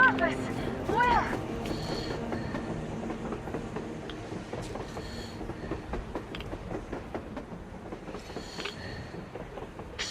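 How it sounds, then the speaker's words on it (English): A train rolls past on the surface in the Metro Exodus game, its wheels clattering rhythmically and rails faintly squealing while voices talk over it. "A damn train on the surface!"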